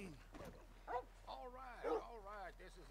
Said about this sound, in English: Doggy, why are you barking?